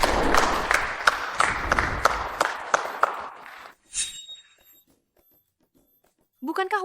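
Audience applause at a family gathering: dense, steady clapping for about four seconds, tapering off, followed by near silence and a voice at the end.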